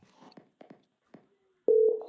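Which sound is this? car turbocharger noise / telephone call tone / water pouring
telephone call tone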